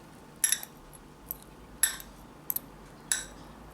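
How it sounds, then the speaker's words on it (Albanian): Fried bread with cheese goes onto a serving plate, with five or six light clinks of cutlery and dishware spaced apart in an otherwise quiet kitchen. "Ja ku e kemi të përgatitur paparen, do ta vendosim në pjatë për servirje."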